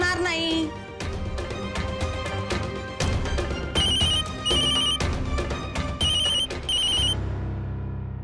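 A phone ringtone chimes in repeated short bursts amid a busy domestic scene, the tone rising and pausing in a steady pattern at close range over background music and household sound.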